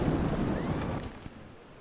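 A rumbling thunderstorm in the strategy game Medieval II: Total War, with a broad low roar that is loud at first and then fades, and a brief crack near the end.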